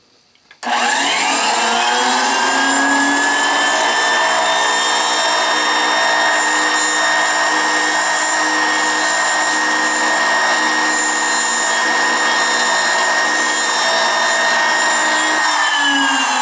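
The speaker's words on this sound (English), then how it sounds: "I'm going to drill the brass, and I'm doing it dry without benefit of lubrication" A drill press starts up and runs steadily at high speed, drilling brass dry without lubrication, a loud continuous whine with no talking.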